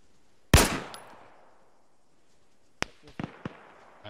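Gunfire in the military video game Arma: one loud close shot rings out and decays slowly, then after a pause comes a scattered burst of several sharper, fainter shots.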